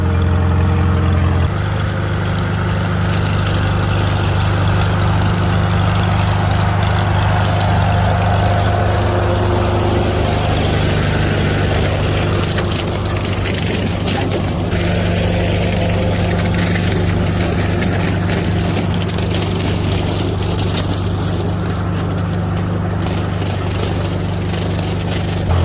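A Farmall tractor engine putts along steadily in second gear, a loud, even low-pitched chug that holds its rhythm throughout with no talking.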